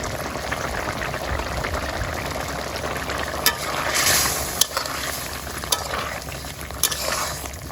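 Ginger fries and gets stirred in a pan in a village kitchen: a steady, dense sizzle throughout, with a few sharp spatula scrapes and clicks against the pan.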